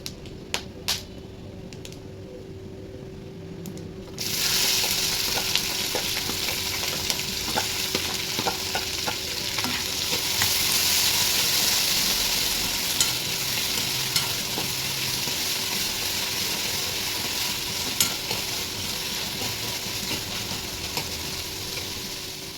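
Green chilies, onion and tomato sautéing in a pan, a loud steady sizzle that bursts in after a few quieter seconds of taps, then continues with scattered scraping stirs to the end.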